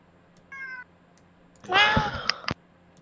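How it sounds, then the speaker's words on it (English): A cat meows twice: a short, clear cry, then a longer, louder, wavering meow ending in a couple of sharp accents, over quiet background hum. "hear the cat meowing"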